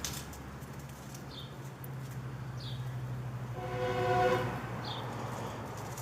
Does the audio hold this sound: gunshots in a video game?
no